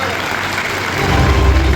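Audience at an inaugural function in Bannerghatta claps in a steady, moderately loud burst of applause that swells toward the end.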